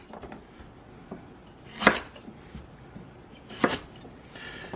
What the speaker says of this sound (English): So I cut the celery in half the long way.